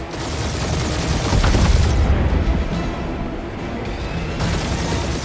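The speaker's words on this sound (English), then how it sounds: "Just make sure you're shooting while you do it." Dense, continuous roar of ship-mounted gunfire and blasts while flying a ship in the Guardians of the Galaxy video game, loud and sustained throughout with no break.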